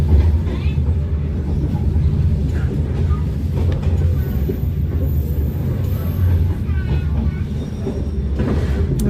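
Train running through Hanoi's Train Street, recorded from on board, with a loud continuous low rumble and rattling of the carriages, and voices talking over it.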